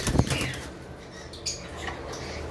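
A male cockatiel flies about close by, its wings beating in a quick flurry of soft flaps near the start, with lighter rustles following.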